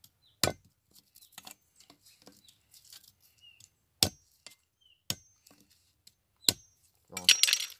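Knife cutting through tough meat from hunted rock cavies outdoors, sharp separated chopping strikes spaced irregularly, with quiet scraping and faint rustling between and a brief burst of noise at the end.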